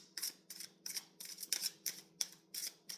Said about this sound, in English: I'm shuffling these cards, and they're being a little bit shy.